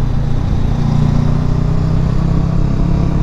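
A Honda CBR 500 R twin-cylinder motorcycle engine drones steadily with a deep, continuous rumble, held at a constant load while climbing uphill, with no voices.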